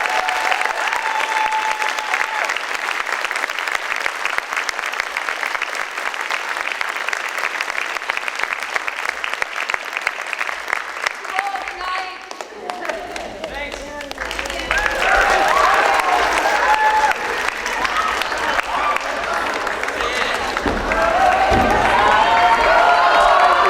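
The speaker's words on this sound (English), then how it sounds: "So I really want to give her another round of applause." Sustained applause from a high school theater audience after a performance of Shakespeare's Twelfth Night, loud and steady, swelling again near the end with cheering and whoops from the crowd.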